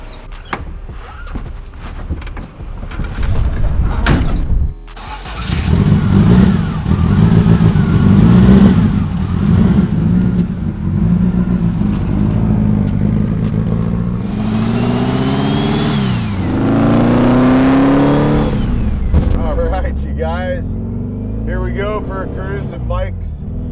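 A turbocharged 1965 21-window Volkswagen bus pulls away and drives, its engine revving up repeatedly with rising pitch between gear changes, loud and close from inside the cabin, with a voice heard over it.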